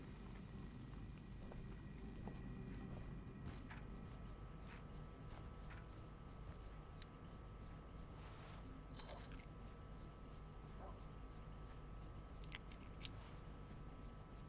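Keys jangle in a quiet interior scene of the video game Life Is Strange: Before the Storm, with soft scattered metallic clinks over a steady low ambient hum, no voices.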